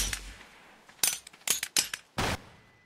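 Flashbang grenade detonations in a modded ARK survival video game, a few sharp loud bursts in quick succession with short gaps, each a hard broadband crack that cuts off fast.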